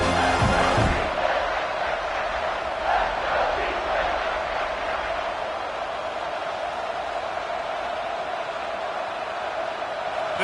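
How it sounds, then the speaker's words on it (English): A large stadium crowd at an Alabama college football game roars on third down in a loud, sustained wash of noise after a brief thud at the start, holding steady throughout. "The Tide crowd rolling noise down onto Saban Field on 3rd down."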